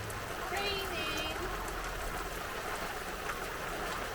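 Soft, steady New Mexico rainfall patters in the background at a campsite, faint and continuous, with a low rumble underneath and no clear talking.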